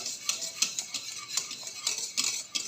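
A spoon stirs thickening milk pudding (muhallebi) in a pot, giving steady, close scraping and light clinking strokes in an even, repeated rhythm, with no voices.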